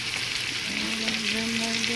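Lemon garlic butter scallops sizzle in a hot pan just after being flipped, a steady close frying hiss with a faint tonal hum beneath.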